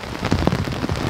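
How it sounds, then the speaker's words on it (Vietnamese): Heavy rain pours steadily at a campsite, a dense, close hiss of drops drumming on a surface throughout, with no voices. "Mưa quá."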